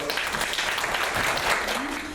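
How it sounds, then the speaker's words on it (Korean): Audience applause at a Seoul policy forum on work-life balance, a steady dense patter of clapping lasting the whole moment, fairly close and even, with no one speaking over it. "큰 박수 부탁드리겠습니다"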